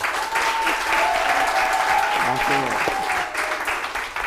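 Sustained clapping from a crowd fills the room, steady and loud, with a voice speaking briefly in French over the applause.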